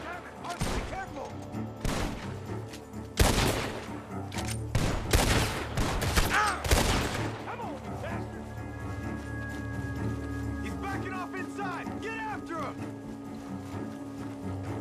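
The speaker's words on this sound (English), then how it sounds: "The gunshots are coming from that barn!" Gunshots ring out from a barn in the video game Red Dead Redemption 2, a cluster of loud sharp shots and volleys among horse hoof clatter, followed by quieter movement and in-game sounds.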